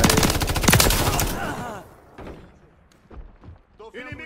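Rapid bursts of Call of Duty: Modern Warfare III multiplayer gunfire crackle at the start, with people talking over it and scattered shots afterward.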